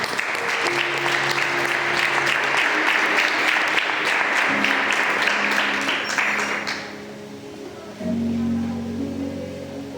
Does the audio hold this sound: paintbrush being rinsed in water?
no